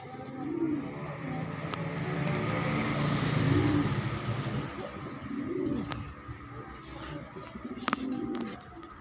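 Tippler pigeons fly rounds overhead while nearby doves give repeated soft, low cooing phrases at a loose rhythm, with a faint car passing in the background and occasional sharp clicks.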